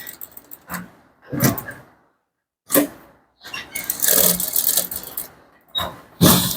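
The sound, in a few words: sewing machine stitching an Ankara top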